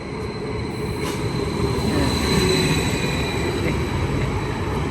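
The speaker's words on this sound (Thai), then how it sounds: "มีรถไฟมาแล้ว" A train rumbles steadily nearby with metallic rail noise, growing slightly louder as it arrives at a station in Thailand, no voices.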